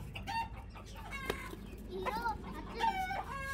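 A black hen clucks in short, repeated, fairly close calls over a low background hum.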